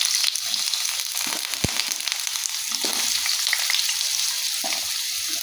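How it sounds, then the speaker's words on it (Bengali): Cut pumpkin pieces fry in hot oil left from frying onions, a dense, loud, continuous crackle and sizzle with occasional faint knocks, heard up close with no talking. "এখন এই তেলের মধ্যে কুমড়োটাকে ভালো করে ঢাকনা দিয়ে দিয়ে ভেজে একদম নরম করে নেব"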